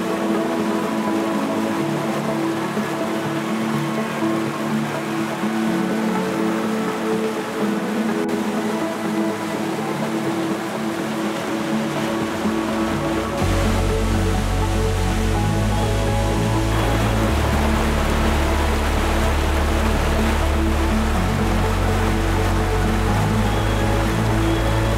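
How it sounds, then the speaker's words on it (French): L'Éventail, a 65 m waterfall in the Cascades du Hérisson in the Jura, gives a steady broadband roar of falling water that grows heavier and fuller about halfway through and then stays constant with no voices. "L'Éventail est la plus connue des cascades du Hérisson car la plus facilement accessible, mais surtout la plus impressionnante du haut de ses 65 mètres."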